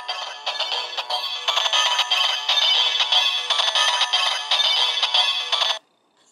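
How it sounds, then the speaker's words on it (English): A tinny electronic ringtone melody from a Kamen Rider Zero-One DX Hiden Risephone toy plays steadily for several seconds at a moderate level, then cuts off abruptly. "You get the ringtone, and that's really quiet."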